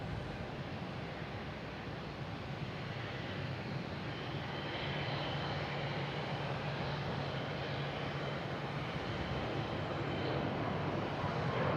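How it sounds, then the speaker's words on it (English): A JetBlue Airbus A321neo jet at Boston Logan bound for San Francisco gives a steady, broad engine roar at middling distance, holding level without voices for the whole stretch. "we have JetBlue heading to San Francisco"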